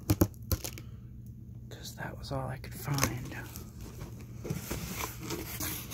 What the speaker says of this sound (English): Yes, I'm using teeny tiny sewing scissors